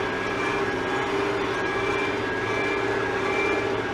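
A tractor drives past and overtakes in a barley straw field, its steady engine drone close and continuous throughout, with no voices.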